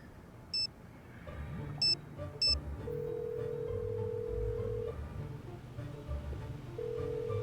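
A phone in a Nancy Drew video game dials out: a few short electronic beeps followed by a long steady tone, heard over a low ambient music bed without speech.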